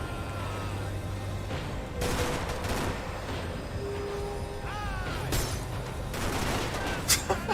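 Max Payne 3 gunfire cracks out in bursts, with sharp shots popping over a constant busy game din, and a few louder reports near the end.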